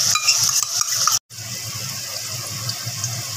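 Tomato, ginger, garlic and green chili paste hissing as it fries with chicken in a pan, a steady bright sizzle broken by one sudden brief cutoff before the frying resumes, close and moderately loud.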